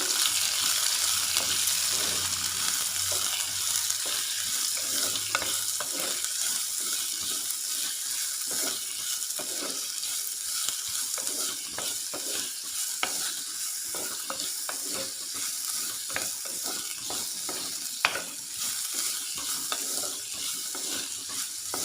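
Finely chopped onion fries with garlic in a pan for a brinjal stir-fry, a continuous close sizzle with frequent scraping stir strokes and soft clatter throughout, with no one talking.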